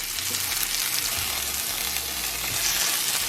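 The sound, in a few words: chicken searing in pan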